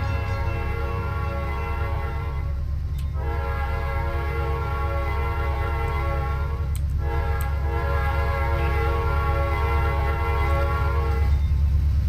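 A train runs in the Trainz railway simulator: a loud, sustained multi-tone horn blows over a continuous low rumble, breaking off briefly twice before sounding again, with no voices.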